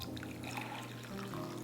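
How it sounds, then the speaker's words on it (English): Coffee poured from a kitchen tool into a freshly rinsed mug, a steady close trickle of liquid lasting a moment with faint room noise. "Now, I'm gonna pour my coffee in."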